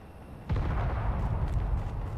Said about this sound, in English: The gunfire is super loud.